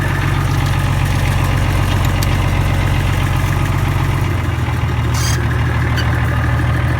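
An IH Farmall 560 tractor engine idles steadily and close by, a deep low rumble that shifts slightly in pitch partway through, with no voices over it.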